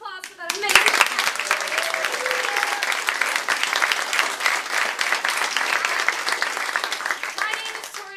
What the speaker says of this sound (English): last round of applause for that amazing